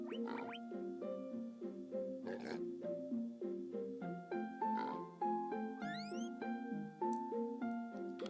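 Boars in the video game Equilinox grunting while eating potatoes: a series of short, clear, tonal oinks and grunts in an uneven rhythm, close and fairly loud, with one rising squeal near the end.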